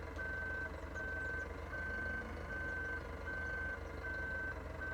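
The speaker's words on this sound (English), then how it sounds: "let's get this out of reverse so we don't have that sound" Steady, evenly spaced reversing beeps from a farm vehicle backing up in Farming Simulator 17, repeating about seven times over a continuous low engine rumble, with no talking.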